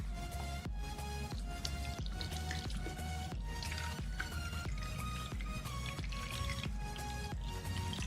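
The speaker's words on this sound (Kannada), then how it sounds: "ನೀರನ್ನ ಫಿಲ್ ಮಾಡೋಣ." Water is poured into a small container holding a waterproof action camera case, giving a steady faint trickle and dripping that continues throughout against a low background hum.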